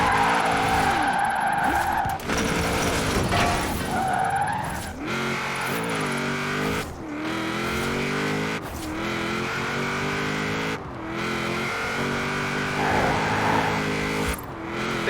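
Cars drifting in the Forza Horizon 4 racing game, with long, loud tire squeals over revving engines that rise and fall as the cars slide through corners, heard alone.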